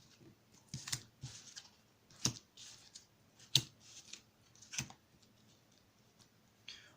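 Petit Lenormand cards handled alone for a tarot-style reading, a quiet series of soft papery shuffles and crisp snaps at irregular intervals, close and faint.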